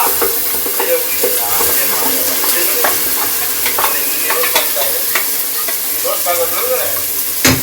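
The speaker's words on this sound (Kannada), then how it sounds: "ಎಣ್ಣೆ ಹಾಕಿ ಚೆನ್ನಾಗಿ ಫ್ರೈ ಮಾಡ್ತಾ ಇರಬೇಕು." Onion, coriander leaves and peppercorns fry loudly in oil for goat-leg paya soup. A constant close sizzle runs throughout, broken by frequent stirring scrapes.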